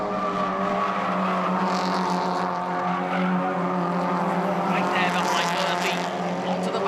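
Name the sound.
Toyota 86 race cars racing at Pukekohe Park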